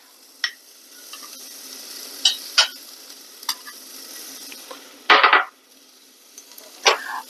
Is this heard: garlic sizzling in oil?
yes